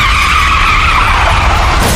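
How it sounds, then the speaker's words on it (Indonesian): A car skids and swerves after driving over a landmine, a loud continuous tyre screech with a wavering pitch running for about two seconds over a rumbling low roar. "mobil mereka pun menginjak sebuah ranjau dan alhasil mobil mereka pun oleng"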